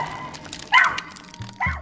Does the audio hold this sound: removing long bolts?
no